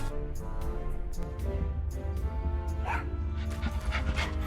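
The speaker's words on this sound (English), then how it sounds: "Oh, such a cute little dog." A small cartoon dog yips and whimpers in the Tales of Monkey Island adventure game, short bursts of barking layered over a sustained musical background, no speech.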